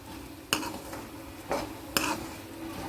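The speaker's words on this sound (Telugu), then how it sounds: "మనం పొడి చేసి పెట్టుకున్న పౌడర్ని ఈ విధంగా తాలింపులో వేసి దోరగా ఏగనివ్వాలండి" Spice powder for bitter gourd (kakarakaya) karam frying in hot tempering oil and being stirred, with a few distinct scraping stir strokes against the pan over a soft, steady sizzle.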